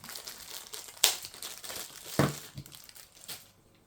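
Plastic packaging of an Etoe E3 Pro projector crinkles and tears in a few sharp, close bursts, with softer rustling between them and no voices.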